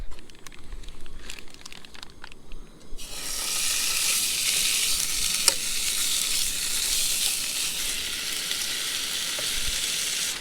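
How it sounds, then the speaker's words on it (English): Bacon frying in a pan outdoors on a riverside cookout: after a few seconds of quieter low rumble, a loud, steady sizzling hiss starts and holds, with occasional pops and crackles close by. "so we'll let that bacon cook down"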